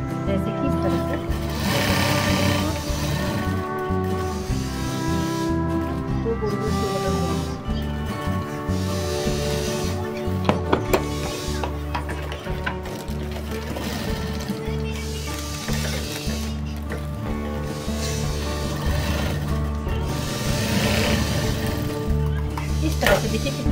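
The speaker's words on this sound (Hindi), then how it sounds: "अब इस पे हम दाब सिलाई मार देते हैं, जैसे कि इस तरह से।" A sewing machine runs close and steady, stitching a ladies' shirt with a continuous whirring hum that barely pauses across the span, while someone talks over it.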